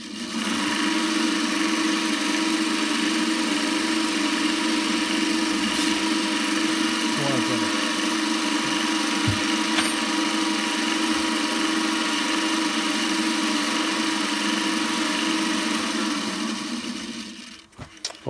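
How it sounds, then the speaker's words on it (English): A hand drill bores into wood for a lidded box, giving a steady, close mechanical whirr that holds level for a long stretch before winding down at the end. "so it's just a hand drill"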